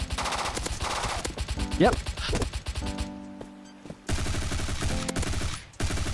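Rapid pistol shots crack out in a Call of Duty-style browser shooter game, several quick bursts mixed with game sounds and a brief spoken word.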